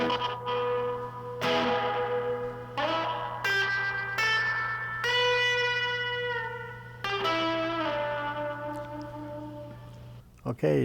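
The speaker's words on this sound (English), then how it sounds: "it has a little reverb in it," A Roland Space Echo RE-201 tape echo unit adds reverb and repeating echo to sustained played notes, each tone ringing and trailing off into washy decaying repeats, over a steady low hum.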